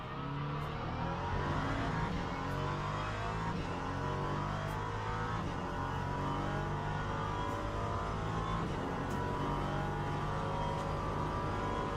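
A GT3/LMP3 race car engine in a racing video game at Monza drones continuously at high revs, a loud, steady buzzing roar with no voices.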